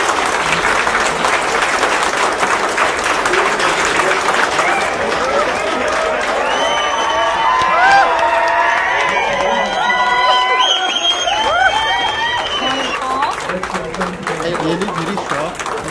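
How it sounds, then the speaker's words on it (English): Loud, continuous applause from a large crowd at a corporate awards event, with cheering, whoops and excited shouting rising in the middle and clapping sustained throughout. "a big congratulations and a round of applause to"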